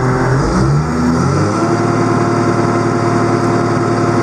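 A Tigercat LX830D mulcher's diesel engine idling at 850 RPM, a loud, steady, close-up rumble with a brief shifting tone in the first second before settling.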